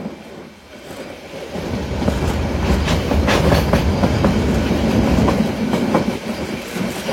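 Titas Commuter Train entering the Methikanda station loop line, with a steady rumble and rhythmic clickety-clack of wheels over rail joints that builds up after a quieter start and stays loud and close.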